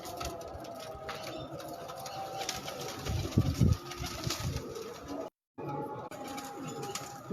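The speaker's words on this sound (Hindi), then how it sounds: "ये बेबी पिजन्स उस्ताद मियाँ हामिद साहब के।" Baby pigeons on a rooftop give soft low coos and faint chirps against outdoor background noise, with a brief louder burst in the middle and a short dropout near the end.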